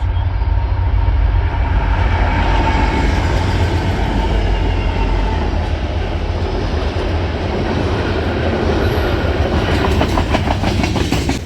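A BNSF-built SD70-series locomotive in WFRX lease fleet, leased to Norfolk Southern, rolls past with its train: a loud, deep rumble and continuous rhythmic clickety-clack of wagons passing close by, with no voices.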